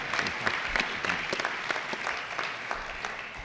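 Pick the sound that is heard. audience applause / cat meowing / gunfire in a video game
audience applause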